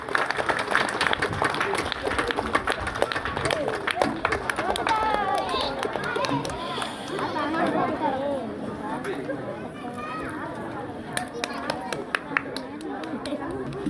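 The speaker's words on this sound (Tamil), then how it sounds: "அடுத்து எம் பள்ளியினுடைய பெற்றோர் கைதட்டி ஆரவாரம் செய்யுங்கள்." Parents at a government high school annual day in Seyyamangalam clap and cheer as a crowd, the applause ragged and continuous amid loud chatter and voices talking nearby.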